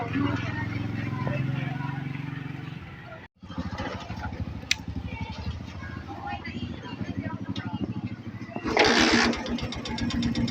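A car engine idles steadily with a fast, even mechanical valve ticking running through it, a brief dropout early on and a louder surge near the end.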